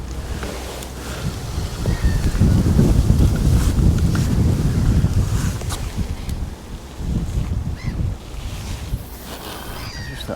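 Strong wind buffets the microphone beside a fishery lake during a match fishing event, a continuous loud rumbling roar with gusts rising and easing throughout, no speech.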